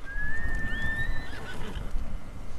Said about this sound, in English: I called a horse?